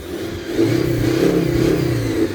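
VW Touareg 2.5 TDI diesel engine revving up close, a droning tone that rises as the throttle opens, holds with a wavering pitch, then eases off.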